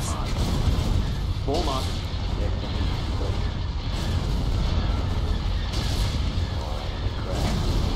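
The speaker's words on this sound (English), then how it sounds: "He's starting to shoot at one of my ships." A starship firing on other ships in the space strategy game Thrawn's Revenge, with continuous rumbling cannon fire and heavy booming blasts under a man's brief spoken words.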